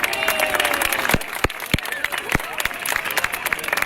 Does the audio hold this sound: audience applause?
yes